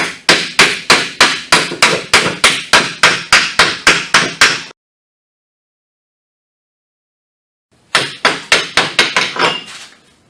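Steel hammer pounds on a nut threaded onto a Jeep Compass rear wheel bearing hub to knock it out, a fast run of about fifteen sharp metallic blows, a pause of silence, then another quick burst of strikes, loud and close.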